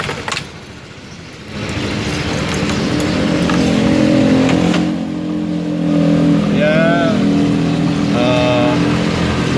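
A Sym GTS 250i scooter engine catches after a short start, then settles into a steady, close running drone with a light rev, while someone speaks over it.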